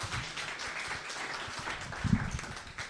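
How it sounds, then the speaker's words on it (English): Audience applause at a Melbourne business pitch night, moderate clapping from a modest crowd with scattered individual claps and a faint voice underneath, steady over a few seconds. "Kurt, give a big round of applause to Kurt."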